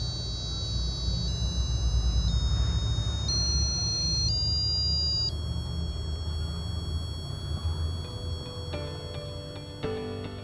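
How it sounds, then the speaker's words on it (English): An Arduino piezo buzzer driven by a light sensor sounds a series of steady tones that step in pitch and fade as the light increases, over a low background hum, with no voices. "the buzzer will start to fade out."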